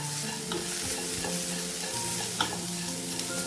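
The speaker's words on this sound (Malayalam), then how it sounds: "ഇതൊന്ന് വറുത്തെടുക്കാം" Grated coconut roasts in a hot pan with a soft steady sizzle, a spatula scraping and stirring repeatedly, close up with no talking.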